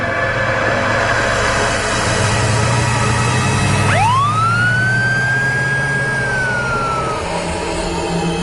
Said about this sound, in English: The ambulance is pulling away from the house with Nathaniel in the back